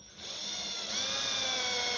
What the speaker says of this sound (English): And we're just going to drill all the holes.